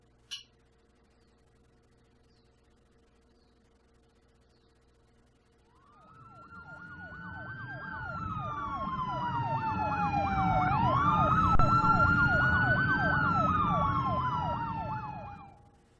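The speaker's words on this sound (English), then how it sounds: "They couldn't be bothered to change the police sirens even." Police sirens in The Uncertain video game wail in from silence around the six-second mark, a loud rising-and-falling tone over rapid yelping cycles with an engine rumble beneath, swelling and holding steady before cutting off.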